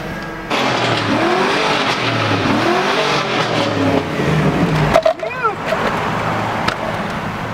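V8 four-cam engine in a Nissan 240SX S13, a loud nearby rumble that rises and falls through several revs, with a sharp higher whine near the end and voices talking over it.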